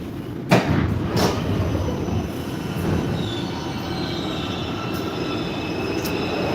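Old Warsaw metro cars rumble along the track at night, with wheel squeal and sharp clanks near the start. A steady rolling drone follows, fairly close, with no talking.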